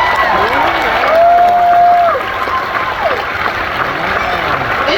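Family applause and cheering from the stands at an Air Force basic training graduation, a steady crowd wash with a brief whistle-like tone, heard under someone speaking over the public address.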